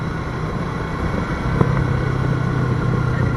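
A Yamaha R3 twin-cylinder motorcycle runs steadily with a low engine and exhaust drone, holding an even, continuous note at close range with no talk over it.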